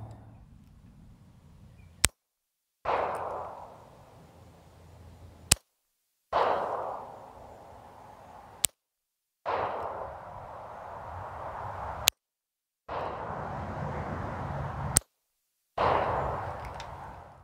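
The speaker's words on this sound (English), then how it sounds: "Now let's repeat that same course of fire with the Beretta 92FS." Beretta 92FS pistol fired in a 10-yard course of fire: five sharp, loud shots spaced a few seconds apart, each a crisp crack followed by brief quiet, with steady outdoor range noise between them.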